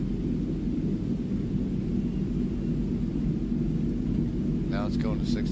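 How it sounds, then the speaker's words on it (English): Steady rain falls with a constant low thundery rumble underneath, dense and close throughout, and a brief voice-like burst near the end. "It's raining now."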